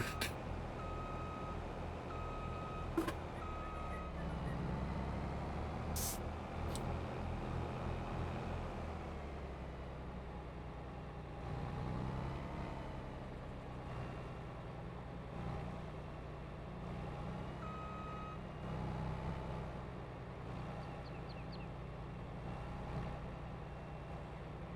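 Truck reversing alarm beeping in a farming game, a steady repeating tone over a low engine drone, with an air-brake hiss near the start.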